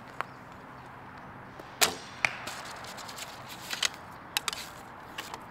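Arrows loosed from a Three Kingdoms Zhuran bow by AF Archery give a few sharp snaps and thwacks, one prominent shot followed by quieter clicks and impacts, fairly close and moderate in level, no speech.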